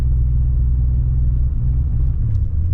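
An old Mercedes-Benz engine under full throttle gives off a steady, heavy low rumble from inside the car, droning evenly without distinct revving peaks.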